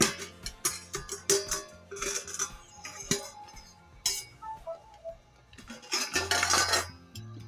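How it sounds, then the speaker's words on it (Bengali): Metal lid lifted off a pot used for baking cake, a run of sharp clanks, clinks and rattles in irregular bursts, close and fairly loud, with no voices. "এবার আমি ঢাকাটা খুলে দেখে নেব"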